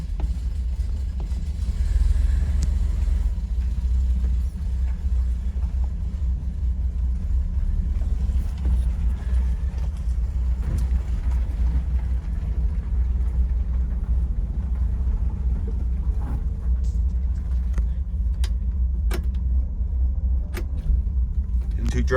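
Steady low rumble of a 1966 Chevy Corvair with its air-cooled rear engine while cruising, a continuous droning road and engine noise heard from inside the car, with faint clicks and no talk.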